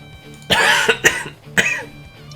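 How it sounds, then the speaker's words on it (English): A few harsh coughs in close succession, loud and near, with a brief pause before a final cough. "Coughing so bad I thought I would have to close that out for you."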